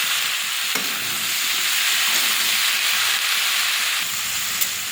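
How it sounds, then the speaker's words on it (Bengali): Mixed vegetables stir-fried in a pan for a mixed-vegetable curry, giving a loud, continuous close-up sizzle and hiss with a few faint scraping stirs and clicks. "ভালো করে সবজিটা কষে জল দিয়ে দেবো"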